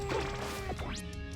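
Super Smash Bros match between Fox and Yoshi: an up smash attack lands with a sharp whack and sweeping game effects, loud over continuous crowd and game noise, lasting just over a second.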